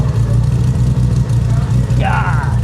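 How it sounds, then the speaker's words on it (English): A 1600HP Toyota Supra engine idles close by with a loud, lumpy, pulsing low rumble, and a voice speaks briefly over it. "Like, listen to this thing idling."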